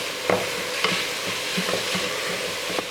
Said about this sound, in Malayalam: അപ്പോൾ ഈ ബട്ടറിൽ കിടന്നിട്ട് ഈ റൈസ് ഒന്ന് നന്നായിട്ടൊന്ന് ഫ്രൈ ആയിക്കോട്ടെ